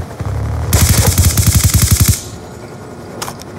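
Sentry gun in Call of Duty Black Ops 2 multiplayer fires a loud, near burst of about fifteen rapid automatic shots over roughly one and a half seconds, then cuts off, followed by a faint clatter.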